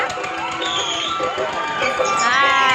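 Children scream and shout on a ride at an exhibition ground in Nellore, a busy crowded mix of shrill yells that rises toward the end, with an adult voice talking over it.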